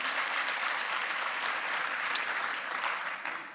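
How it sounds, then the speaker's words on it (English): A crowd applauding in the middle of a political speech by Illinois Governor JB Pritzker, a full, even burst of many hands clapping that carries steadily throughout, loud and unbroken by talk. "I never got applause during a political speech before."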